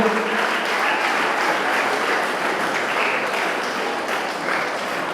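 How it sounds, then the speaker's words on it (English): Steady, dense audience applause fills a youth parliament competition hall at JNV East Garo Hills, sustained and loud throughout with no pauses. "You can keep clapping till the time ma'am is being selected."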